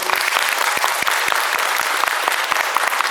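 Steady, loud applause from a concert audience at an open-air event in Lviv's Pohulianka park fills the whole stretch, dense clapping continuing without pause.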